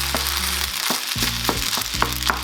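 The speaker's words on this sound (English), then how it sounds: "you stir fry like this for maybe half a minute" Vegan pineapple fried rice with spring onion stir-fried in a hot pan: a steady, close sizzle broken by repeated spatula scrapes and tosses about every half second, with no talking.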